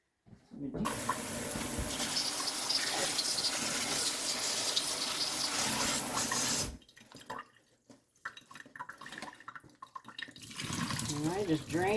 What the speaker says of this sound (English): put this in the sink, and I just completely soak the entire